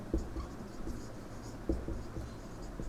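Chalk or marker strokes on a board while a physics definition of the magnetic field is written out, with a few soft taps and scratches spread over a quiet classroom background.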